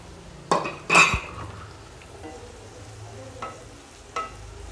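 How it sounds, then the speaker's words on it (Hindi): Grated paneer is stirred and fried in a pan, with two sharp utensil scrapes and clinks early on. A faint steady sizzle follows, broken by lighter, occasional stirring knocks. "अब थोड़ा भून लेंगे। अब मैं इसमें 1 कप पनीर डाल रही हूँ।"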